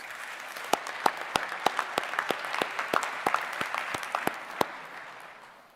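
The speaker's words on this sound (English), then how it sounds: "please give her a round of applause" Steady applause from a commencement audience, a dense patter of clapping with a few sharp louder claps standing out, fading slightly toward the end.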